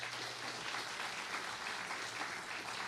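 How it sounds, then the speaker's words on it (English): A round of applause from a conference audience at a life sciences workforce event, heard faint and distant as a soft, even wash of clapping. "the entire team at MassBio a round of applause"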